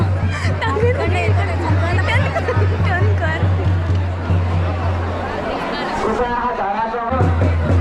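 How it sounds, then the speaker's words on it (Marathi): Devotees throng the Jaitir temple for darshan, a thick wall of overlapping chatter that stays close and loud throughout. A steady low tone hums beneath the crowd and briefly drops out near the end. "गर्दी बघा"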